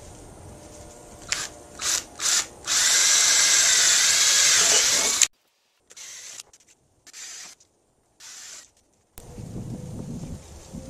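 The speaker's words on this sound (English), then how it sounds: "From the bottom of the board, where the holes are smallest and you can see the center the best, I drilled 1/4 inch holes through" A power drill bores quarter-inch holes through a fiberglass deck board for a mini pontoon boat, with short trigger bursts and then one long loud whine, followed by several quieter spurts and pauses.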